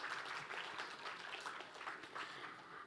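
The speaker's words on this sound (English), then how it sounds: "Let's have a big round of applause." An audience at a memorial public lecture on law claps after the talk, a soft, distant, dense patter of many hands that holds steady throughout.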